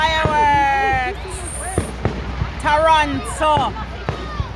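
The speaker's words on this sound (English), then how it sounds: "Whoa! Fireworks!" Canada Day fireworks pop and crackle in sharp bursts in Toronto, while whistling tones and excited voices carry over them and a dog is nearby.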